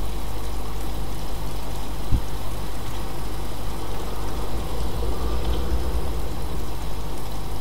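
Rain falls in the survival video game DayZ as a constant broadband wash over a heavy low rumble, with one sharp knock partway through and no talk.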